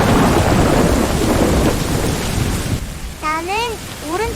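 A thunder sound effect rolls as a deep, loud rumble with rain noise for about three seconds, then fades as a voice starts speaking over the quieter background.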